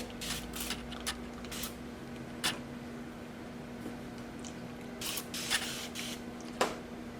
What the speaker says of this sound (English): spray some more water